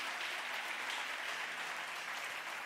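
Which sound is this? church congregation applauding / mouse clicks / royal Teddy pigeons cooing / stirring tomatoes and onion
church congregation applauding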